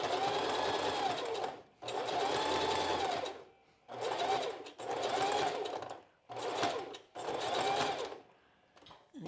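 A sewing machine stitches strapless bra cups in six bursts of rapid whirring, each a few seconds long and separated by brief pauses, close and clear with no talking.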